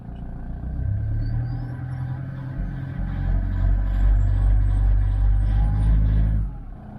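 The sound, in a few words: car engine running unevenly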